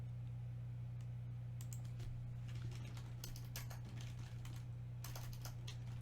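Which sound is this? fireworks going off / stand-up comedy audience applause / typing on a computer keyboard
typing on a computer keyboard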